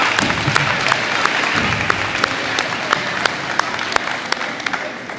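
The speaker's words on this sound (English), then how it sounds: "one more round of applause" Audience applause at a seventh-grade middle school academic awards ceremony, a full round of clapping from a crowd in a gym or hall, with individual sharp claps standing out as it gradually thins.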